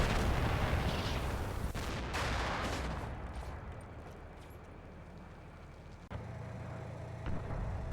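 Rumbling mortar and artillery barrage in the Combat Mission Cold War game, a dense, continuous roar of blasts with sharper cracks early on, sustained throughout with no talk.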